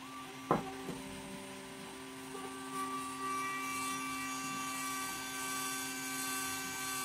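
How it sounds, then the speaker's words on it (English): Small electric motors of an RC micro crawler spin up on a 2S battery, a brief click followed by a thin, steady high-pitched whine that rises and holds, fairly faint and close with no talking. "I'm gonna show you that I use plus or minus the same motors, and I will power them up on 2S"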